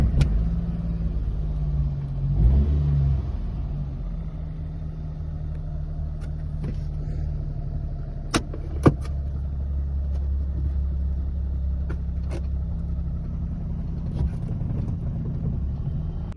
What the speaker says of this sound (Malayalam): ഞാൻ ഇന്നിവിടെ ടെസ്റ്റ് ഡ്രൈവ് ചെയ്യാൻ പോകുന്നത് ആൾട്ടോയുടെ 2005 മോഡൽ വണ്ടിയാണ്